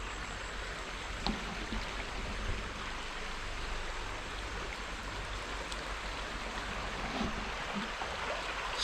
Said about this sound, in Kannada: ಇದು ಬಂದುಬಿಟ್ಟು ನಮ್ಮ ಲ್ಯಾಂಡ್ ಪಕ್ಕ ಇರೋ ಹೊಳೆ ಇದು